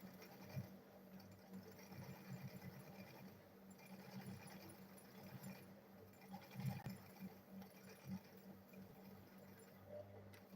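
A sewing machine stitching a school bag runs in quiet, uneven bursts of rapid mechanical clatter, fairly close but soft.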